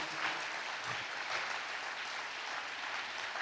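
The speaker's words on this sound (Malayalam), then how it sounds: "ഒന്ന് കൈയടിച്ച് കർത്താവിനെ മഹത്വപ്പെടുത്തു." A church congregation claps together in praise, a dense, steady wash of applause that fills the hall and continues without pause.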